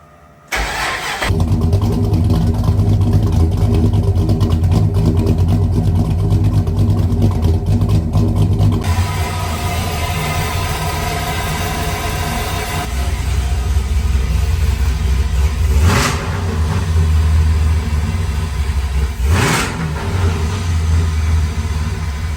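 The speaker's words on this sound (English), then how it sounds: "let's crank this bad boy up and see what kind of difference these factory coils or junkyard coils make" An LS V8 engine fitted with junkyard factory ignition coils cranks briefly, fires up and settles into a loud, close idle, then revs twice with sharp rising blips before dropping back to idle.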